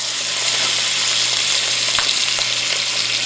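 A meat loin sears in a hot cast iron pan with a loud, continuous, close-up sizzle and a faint low hum beneath it, broken only by a couple of small clicks.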